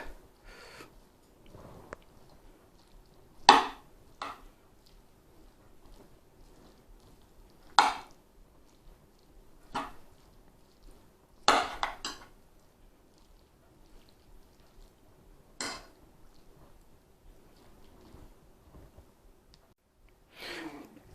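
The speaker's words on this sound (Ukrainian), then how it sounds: "Ось тепер можна все це діло і перемішати." Vegetable salad with beans and sauce being mixed in a bowl, giving scattered soft clatters and scrapes at irregular intervals, fairly quiet with silence between.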